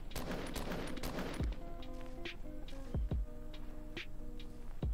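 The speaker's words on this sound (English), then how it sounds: "They're already shooting." Fortnite gunfire crackles in rapid bursts, then a few separate sharp shots follow with a ringing tail, loud against the game's background sounds, with no talking.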